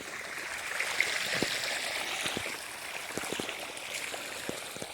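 Water flows along an irrigation channel on a farm, a soft continuous trickling with small splashes and gurgles that come up irregularly.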